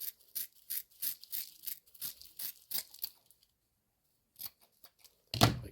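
Scissors snip straight across fly-tying material for a blue and white Sea Witch fly, a run of quick close cuts and soft rustles followed by a pause and one last sharp snip.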